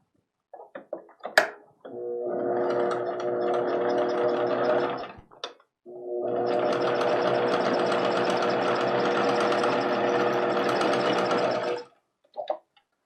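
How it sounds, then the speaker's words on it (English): A sewing machine runs a zigzag stitch on an ironing board cover, with two long continuous whirring bursts separated by a short pause and brief starts and stops at either end, close and alone. "Now I do a zigzag stitch to secure those pieces together so that there is a bit of give."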